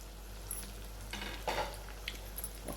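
Masala brinjal curry stirred in a pan, a spoon scraping and clinking against the metal over a faint sizzle, with a few soft distinct scrapes standing out at a moderate distance.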